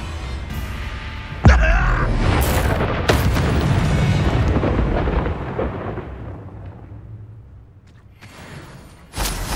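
A Confringo spell blast in the Hogwarts Legacy game erupts as a loud, sudden boom that rolls into a long thundering rumble and fades slowly, followed by another sharp burst at the end.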